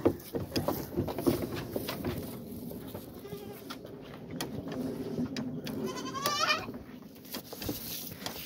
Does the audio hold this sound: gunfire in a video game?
no